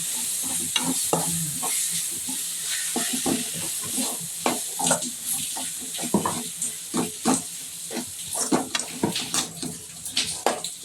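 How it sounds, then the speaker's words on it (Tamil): Prawns sautéing over a low flame in a pan, a steady sizzle broken by repeated scraping stir strokes at an uneven rhythm, close and fairly loud with no talking. "இதையும் போட்டு நல்லா வதக்கிடலாம் சின்ன தீயில வச்சு வதக்குங்கம்மா"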